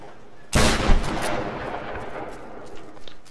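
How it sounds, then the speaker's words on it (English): Shotgun blast in the Tomb Raider video game, a single sudden loud boom followed by a rumbling decay and faint debris rattles, with no speech. "That can be blown apart with a shotgun."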